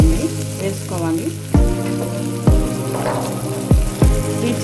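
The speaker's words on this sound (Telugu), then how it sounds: "ఇవి బాగా వేగిపోయినాయండి" Green chillies fry in an oil-filled pan for a mirchi fry, with a continuous sizzle broken by several loud scraping stirs and clanks of a utensil against the pan.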